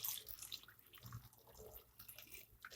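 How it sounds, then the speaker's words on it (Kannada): Water from a glass poured into a pan of chickpeas and ivy gourd with salt and turmeric, a close, steady splashing trickle lasting a few seconds with no talk. "ಈಗ ನೀರು ಹಾಕ್ಕೊತಾ ಇದ್ದೀನಿ ನಾನು."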